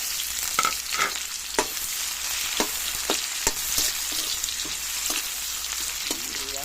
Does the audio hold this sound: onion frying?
yes